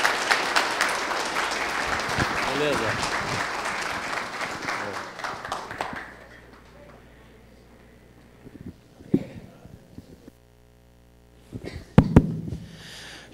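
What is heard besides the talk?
audience applause for a lecture speaker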